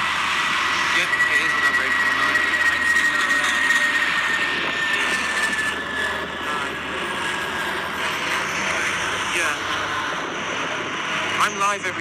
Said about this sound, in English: And there's another plane, smaller plane.